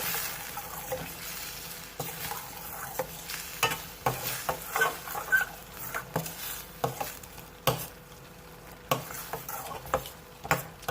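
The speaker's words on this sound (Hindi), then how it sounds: "और मैं इसे मिक्स करूँगी।" Chicken jalfrezi being stirred with chili powder and garam masala, a spoon scraping and clinking against the pan in a steady rhythm of short knocks over a soft sizzle.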